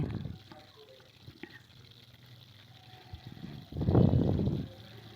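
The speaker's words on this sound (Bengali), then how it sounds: "দেখুন আমি এইভাবে সবকটা লুচি একটা একটা করে বেলে নিচ্ছি ভেজে নিচ্ছি" Luchi fry in hot oil for chhana kachori, with a faint sizzle that swells into a louder, bubbling burst for about a second before fading again.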